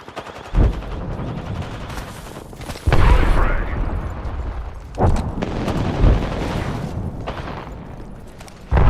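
Frag grenade blasts in a video game, several heavy booms a few seconds apart amid rattling gunfire, with voices talking throughout.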